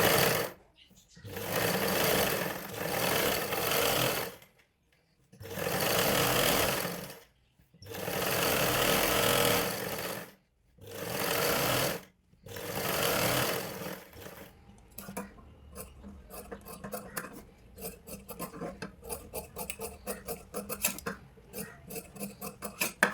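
Sewing machine stitching around the front parts of a blouse, running in several loud bursts separated by short pauses, then giving way to lighter ticking and handling sounds.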